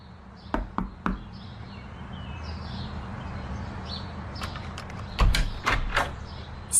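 Knocking on an apartment door: a quick set of three raps, a pause, then a louder burst of several knocks, fairly close against quiet background noise.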